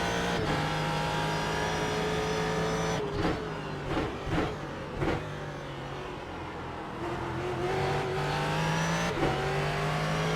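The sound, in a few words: Ford GT race car engine downshifting, iRacing video game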